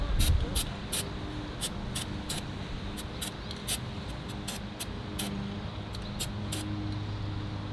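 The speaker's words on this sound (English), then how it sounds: "I didn't know you could buy spray grease." Spray grease hisses from an aerosol can in a series of short, sharp bursts, some quick and some longer, during a Reese 27K fifth-wheel hitch install, with a person talking quietly underneath.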